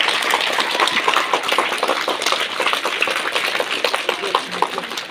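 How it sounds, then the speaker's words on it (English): A school audience at a cultural and sports meet applauds a guest of honour, a dense, continuous wash of many hands clapping at once, steady and fairly loud for the whole stretch. "Let us all stand and give a big applause"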